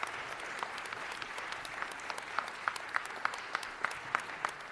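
Applause from the audience at a city council meeting, a steady wash of clapping with sharper individual claps standing out, fairly distant and moderate in level, continuing throughout with no talk.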